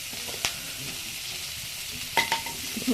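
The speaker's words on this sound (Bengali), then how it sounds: "ভালো করে সবগুলো একসাথে ভাজবো" Food frying and being stirred over a wood-fired stove: a steady sizzle throughout, with a couple of sharp clinks or scrapes from stirring, no voices.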